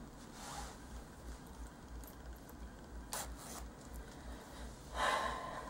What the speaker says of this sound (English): So there's the zippers on the side,